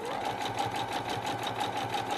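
A sewing machine stitches steadily with a blind hem presser foot, giving a fast, even mechanical whirr and rhythmic ticking throughout at moderate volume.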